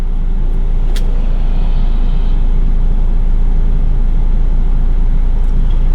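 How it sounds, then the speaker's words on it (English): Continuous traffic rumble from cars driving past on a busy road, a loud, steady drone with a brief faint squeal early on, no voices. "There's more cars out."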